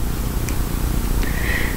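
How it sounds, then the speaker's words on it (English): A pet cat purrs right beside the microphone, a steady, close, low rumble that runs unbroken throughout with no talking. "I'm sorry about my cat, but she gets really affectionate when I talk, just like Minky used to do"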